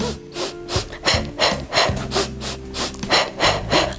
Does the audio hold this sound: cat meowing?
no